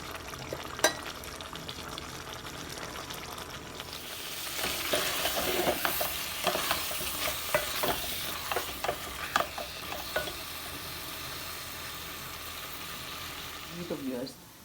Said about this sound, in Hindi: कलेजी हमारी जी भुने जा रही है